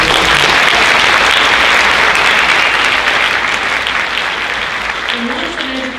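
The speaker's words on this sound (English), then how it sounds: "Let's give them a hand." An audience at a high school honors night applauds educators, dense sustained clapping filling the hall, loud and steady throughout before easing slightly toward the end.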